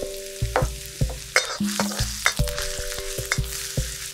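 Ginger stir-frying in a little oil in a wok, a close steady sizzle punctuated by repeated sharp clinks and scrapes of the spatula against the metal.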